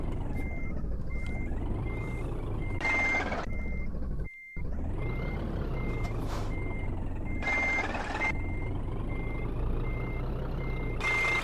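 A truck reverses in Scania Truck Driving Simulator, its steady reverse warning beeps repeating evenly over a continuous low engine rumble, with occasional bursts of hissing noise and one short drop to silence.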